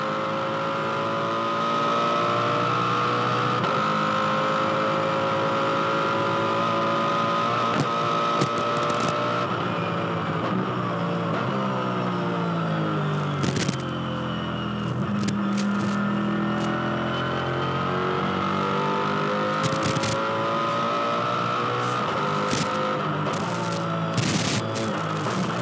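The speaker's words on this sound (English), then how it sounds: "Let's have a listen to the V8 power." V8 Supercars racing engines at the Bathurst 1000 drone steadily from onboard, rising and falling through gear changes with a continuous sustained roar and occasional sharp clicks and clunks.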